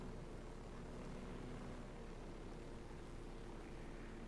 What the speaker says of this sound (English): let's try and take out that plane